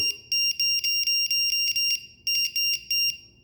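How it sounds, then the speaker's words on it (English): A LiPo battery voltage alarm plugged in for an E-flite UMX Cessna Citation Longitude gives rapid, piercing high-pitched beeps in two quick bursts with a short pause between them, loud and close. "I'm going to go ahead and plug in my voltage alarm. This is going to give us an alarm"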